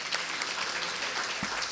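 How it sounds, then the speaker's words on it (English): Brief audience applause at a multiple sclerosis symposium expert panel, a soft, even patter of clapping from a crowd heard at a moderate distance for under two seconds. "let's give her a round of applause"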